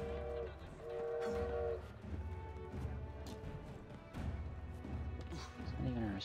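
A train rolls along in Assassin's Creed Syndicate, its steady low rumble and rhythmic clatter running throughout with brief metallic knocks, while someone talks over it.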